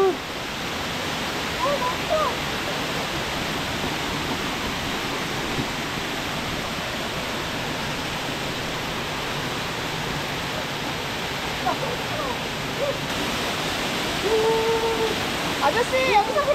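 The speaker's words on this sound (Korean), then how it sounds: "저희는 낙영폭포에 도착했습니다." Nakyeong waterfall in the Sogeumgang valley of Odaesan pours in a constant heavy roar of rushing water, close and loud, with a few faint voices mixed in at moments.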